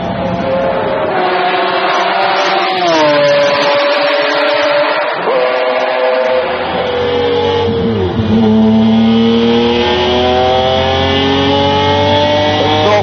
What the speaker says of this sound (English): Acceleration, you just feel yourself being forced back into the seat of this F1.